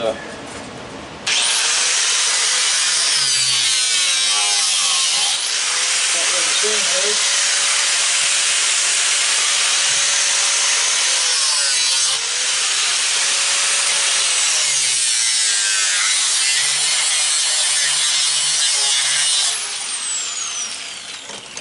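A saw cuts through the plastic housing of an old electric weed eater being scrapped, with long bursts of loud, rasping back-and-forth strokes broken by short pauses, close and with no talk.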